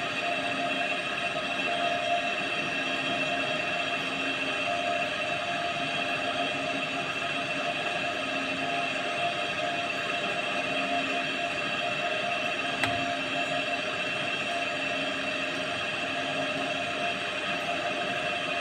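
A three-phase induction motor fed at 380 volts through a three-phase autotransformer runs at about 1476 rpm, giving a steady, continuous hum and whine with constant tonal lines at close range. One faint click occurs near the middle.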